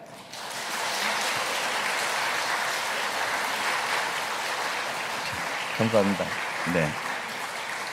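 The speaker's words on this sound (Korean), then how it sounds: "여러분 인사하실 때 여러분 열렬하게 박수해 주시기 바랍니다." Congregation at a church district revival assembly bursts into sustained, steady applause that fills the room, while a voice speaks briefly over it near the end.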